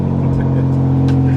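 A broken Nissan R35 GTR engine runs with a rough, droning idle and a steady low hum, close and continuous.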